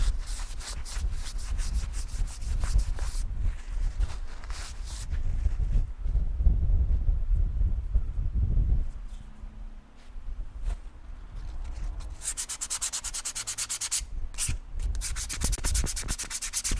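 Grease is wiped off a Suzuki TS250 motorcycle part with steady rubbing strokes, close and fairly loud, running in bursts with a brief pause midway and no talking.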